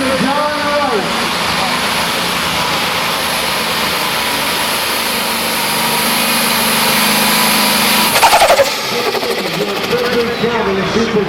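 Loud, sustained high-pitched roar of a super stock pulling tractor engine on full boost at a Frederick pull, swelling toward a peak, with an announcer talking over the din.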